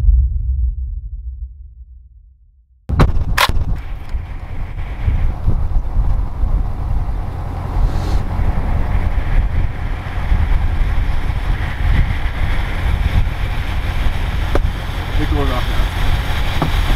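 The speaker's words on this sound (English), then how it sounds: "Wind! We're done for the day." Strong wind blows across an iced-over lake during ice fishing, a loud, constant buffeting rumble on the microphone that kicks in abruptly after a brief quiet fade and carries on steadily to the end.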